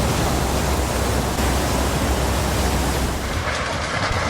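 The flooded Beas river roars as a continuous, loud, dense rush of water during heavy monsoon rain in Himachal Pradesh, steady throughout with no pause.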